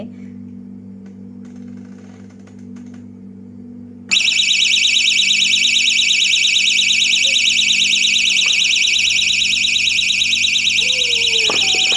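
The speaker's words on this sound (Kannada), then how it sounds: "ಪುಷ್ ಮಾಡಿ ಯಾವ ಥರ ಸೌಂಡ್ ಆಗುತ್ತೆ, ಯಾವ ಥರ ಅಲಾರ್ಮ್ ಆಗುತ್ತೆ ನೋಡಿ" A door security alarm goes off when the door is pushed, a loud, steady high-pitched electronic tone that starts abruptly after a few seconds of quiet room hum and holds without a break to the end.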